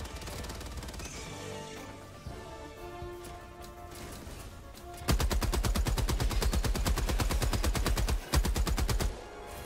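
Gunfire in Helldivers 2: quieter game sounds at first, then a long, loud burst of rapid automatic fire with evenly spaced shots, near and dominant, pausing briefly before continuing.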